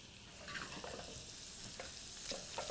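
Shrimp sizzle in a hot pan with golden garlic as they tumble in over high heat, a bright steady crackle with a few stirring scrapes, close and fairly quiet.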